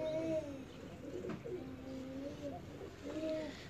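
Young Teddy pigeon chicks give soft, repeated chirping calls mixed with cooing, fairly faint and close by, with several short calls spread across a few seconds.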